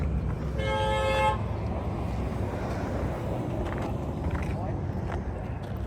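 A horn blows one short steady tone in a thrift store, over constant rumbling background noise, followed by someone talking nearby.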